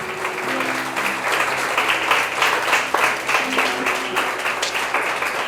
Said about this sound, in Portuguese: Aplauda o nome do Senhor Jesus